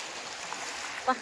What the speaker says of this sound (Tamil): அலை நல்லா அடிக்குதுங்க